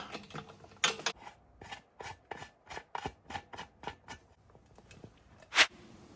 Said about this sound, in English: we got a 1/2-inch drive to turn an 8mm bolt